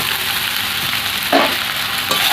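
Sautéed vegetables and soaked, drained flattened rice fry in a pan with a steady close sizzle, broken by a couple of brief scraping stirs.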